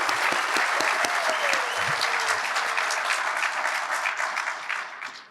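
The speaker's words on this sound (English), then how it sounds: "Please give another round of applause for President Wilson." A large audience at a university State of the University address claps in a loud, full round of applause that holds steady and then fades toward the end, with a faint voice under it.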